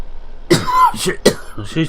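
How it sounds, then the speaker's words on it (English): A few quick, harsh coughs in a row from a driver, close and loud, with brief throat-clearing sounds between them. "Excuse my coughing now."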